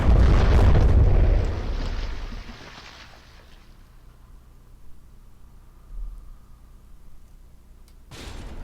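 Explosions on a ship under fire in the video game From the Depths: a loud, deep booming blast that rumbles and fades over a few seconds, followed by a quieter thump and another burst at the end.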